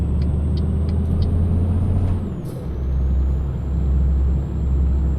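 A Scania truck engine in Euro Truck Simulator 2 pulls hard with a steady, loud low-pitched drone, broken briefly by a sharp hiss of air partway through.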